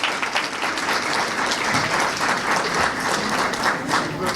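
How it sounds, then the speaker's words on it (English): Sustained applause from a crowd at a town board meeting, honoring young athletes, steady and dense throughout with a faint murmur of voices underneath. "Let's have one more round of applause for these wonderful young athletes."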